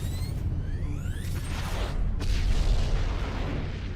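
A loud explosion in a sci-fi TV show after an order to fire, a sustained booming blast with rumbling low end and whooshing debris, swelling again midway and filling the whole stretch with no talk.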